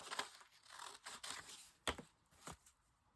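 Ledger-style copy paper being cut and torn in a series of crisp, close, quiet tears and crinkles in uneven bursts, with short pauses between.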